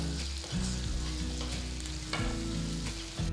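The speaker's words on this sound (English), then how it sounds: "Keep stir frying them until the prawns are completely cooked" Prawns sizzle steadily in a hot pan, with stirring and scraping strokes breaking through the loud frying hiss.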